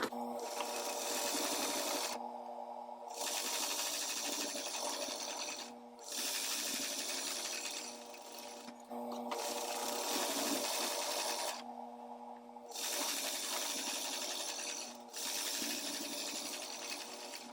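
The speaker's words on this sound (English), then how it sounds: "I'm going to sew across these ends with a 1 inch allowance." A sewing machine stitches across the ends of a fabric pillowcase-style bag in several loud, steady bursts of rapid mechanical whirring, each a few seconds long and separated by brief pauses, with faint talking underneath.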